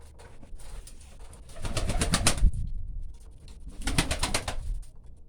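Pigeons coo in two rounded bursts with a short lull between, close by, with soft rustling in the background.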